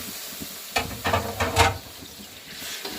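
Onions sizzling in oil in a wok on a stove, a soft steady hiss with a few louder stirring scrapes and crackles in the middle, close up, with no talking.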